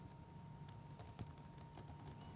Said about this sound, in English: it's as simple as typing in, just like you would in a Word document or anything else like that